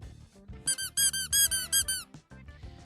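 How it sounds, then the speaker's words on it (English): Small squeaky toy chickens squeezed in a rapid burst of about seven high, bright squeaks, close and loud, with quieter handling noise before and after. "But you get 2 little squeaky chickens."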